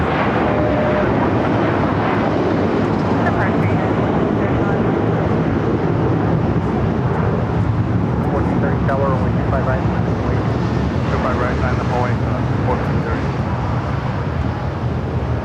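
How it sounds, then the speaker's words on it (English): Boeing 757-300 bound for Honolulu rolling down the runway for takeoff at LAX, a loud continuous jet engine roar with wind buffeting, steady throughout and heard from a distance. "757-300 heading to Honolulu, now already rolling down to 5 right"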